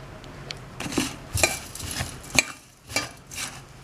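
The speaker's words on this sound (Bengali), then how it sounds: "চিনি দিয়ে দিলাম, এবার আমি ভালো করে মেখে নিচ্ছি।" Hands mixing drumstick flower fritter batter with sugar in a bowl, giving soft irregular squelches and light knocks against the bowl, close and moderately quiet with brief pauses between strokes.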